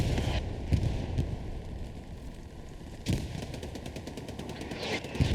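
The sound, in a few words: machine gun fire in video game Hell Let Loose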